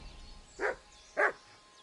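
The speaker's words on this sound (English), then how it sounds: "I don't know what he's barking at." A dog in the video game Kingdom Come: Deliverance 2 gives two short barks about half a second apart, fairly faint and a little distant, against near silence.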